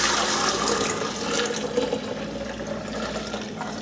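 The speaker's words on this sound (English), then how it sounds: "I'm going to have to transfer this into the jug here" Carrot juice poured from one container into a jug, a steady close liquid splash and trickle running continuously without pause, with no talking over it.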